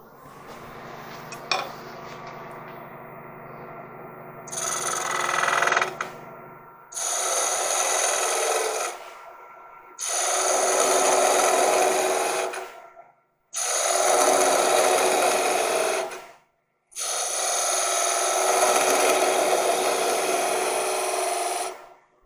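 A skew chisel cuts a wooden long-stem goblet spinning on a lathe, giving a close, loud, raspy scraping in five separate passes of about two to three seconds each, split by short pauses.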